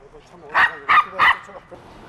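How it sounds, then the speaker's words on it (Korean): A dog that charges at passing motorcycles gives three sharp, close barks in quick succession over a quiet background. "갑자기 강아지가 짖고 달려들었잖아요"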